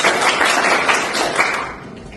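A classroom of students claps briefly for a classmate, a dense burst of hand claps that is fairly loud at first and fades toward the end.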